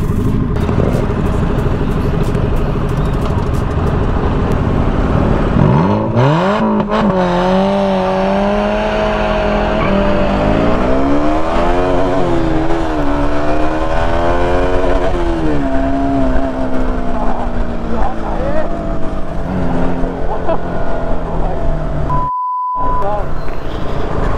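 A motorcycle engine roars close by during a ride, starting as steady engine and wind noise, then rising and falling through loud revving sweeps as the bike accelerates and shifts, with a brief dropout near the end.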